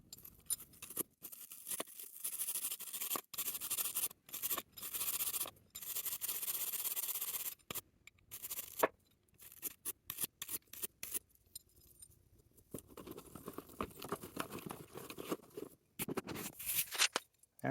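Bristle brush scrubbing grit off a removed stainless steel 304 Titen HD 3/8 x 6 inch concrete screw anchor, with corroded brazed threads, pulled after two years; quick dry scratchy strokes in bursts with short pauses, close and fairly quiet.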